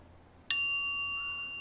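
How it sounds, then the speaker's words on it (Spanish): A single bright bell ding rings out cleanly after a brief quiet moment, its pure metallic tone sustaining and slowly fading, alone with no talk over it. "Después de la campana lo decimos al mismo tiempo."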